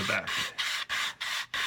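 A vacuum-formed plastic baseplate sanded by hand, five steady back-and-forth rasping strokes in an even rhythm, close and fairly loud with brief pauses between passes.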